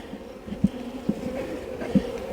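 Honey bees drone softly around an open hive, a steady low buzz with a few sharp, close taps or knocks rising above it.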